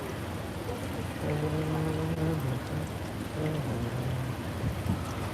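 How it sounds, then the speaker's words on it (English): Wind and rain outside St Paul's Cathedral in London make a steady, loud wash of noise. A low droning tone rises and falls within it. "It's too windy, too rainy."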